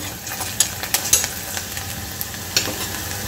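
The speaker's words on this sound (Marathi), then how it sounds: "इथं आता आपले कांदे छान ब्राऊन झालेले आहे." Onions frying in a pan until browned, for a Vidarbha-style popat rice dish, give a steady soft sizzle close by, broken by a few sharp clinks and scrapes of stirring.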